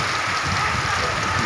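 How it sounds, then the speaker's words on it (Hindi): Heavy rain pours down in a dense, continuous hiss and patter on surfaces, steady and close throughout. "भीषण बारिश चल रही है।"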